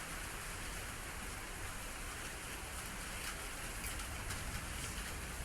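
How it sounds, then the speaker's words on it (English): Steady rain falls continuously, a soft, even hiss of drops on surfaces, faint and unbroken throughout. "It is still raining"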